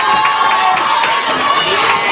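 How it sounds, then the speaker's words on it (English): Loud crowd cheering and applause at the official opening ceremony of a clubs headquarters, a dense continuous roar of voices and clapping. "ermanent Secretary Petty and Inspector Isles a loud, rousing applause for doing that."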